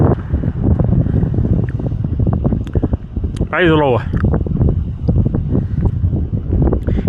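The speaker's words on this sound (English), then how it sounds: "It's windy" Cold night wind buffets a microphone in Tennessee, a steady low rumble and roar running throughout while someone talks over it nearly the whole time.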